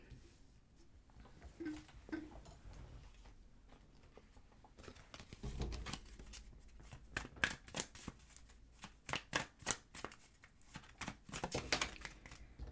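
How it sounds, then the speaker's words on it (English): Tarot cards are pulled and shuffled close by, with quiet slides at first and then a run of rapid, crisp riffling flutters and taps that grow louder toward the end. "let's go ahead and pull some cards for you guys"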